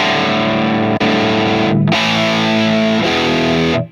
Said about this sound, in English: Mark VII is the new modern high gain boogie sound.